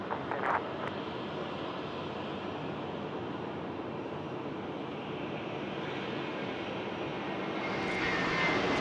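A Qantas passenger jet climbs away after takeoff at Sydney Airport, its engines giving a steady, broad roar heard from some distance that holds level throughout and swells slightly near the end.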